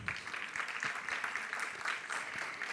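At an Indian classical dance performance, an audience applauds with steady, moderately distant clapping that continues evenly throughout.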